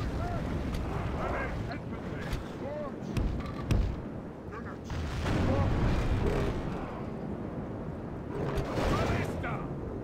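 Cannons firing grape shot in a Third Age: Total War battle, with continuous rumbling booms and battle noise throughout, loud and dense, with a voice talking over parts of it.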